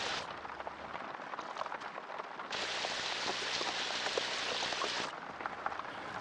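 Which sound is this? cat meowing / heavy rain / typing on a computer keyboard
heavy rain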